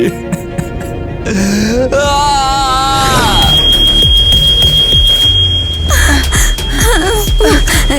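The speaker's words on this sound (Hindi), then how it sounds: "अब अलार्म बज रहा है" A smoke alarm sounds a steady, piercing high tone that holds loud and continuous for several seconds, arriving partway through a busy stretch of music and dialogue that carries on underneath it.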